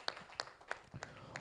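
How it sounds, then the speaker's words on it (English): A few soft handclaps for a guest on a live lunchtime talk show, about five quiet, evenly spaced claps within a second and a half. "I'll clap for Mr. Ba as well."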